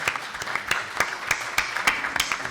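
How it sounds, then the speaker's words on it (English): An audience at a Newbury discussion panel on Thoroughbred growth applauds: a modest, fairly sparse patter of hand claps with sharp individual smacks, steady for a few seconds in a room. "I think we should all applaud these guys"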